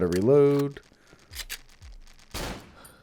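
Gunfire in the horror video game Cry of Fear: a few sharp, loud shot bursts come after someone speaks briefly.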